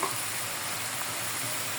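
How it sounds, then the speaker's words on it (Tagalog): Chicken adobo with chayote boils in a pan, giving a steady, close hiss of bubbling and sizzling with fine crackles and no talk. "Kumukulo na."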